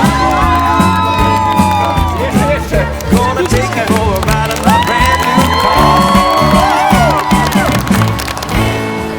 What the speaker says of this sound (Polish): Kasia i Dawid, ich szalony pierwszy taniec, duże, duże brawa